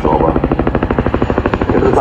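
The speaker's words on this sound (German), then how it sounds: "der Sound, den der Hubschrauber macht, der hat zu seinem Spitznamen geführt" A Boeing CH-47 Chinook tandem-rotor helicopter at a flying display, its loud, steady rotor thump pulsing rapidly and continuously, close and powerful.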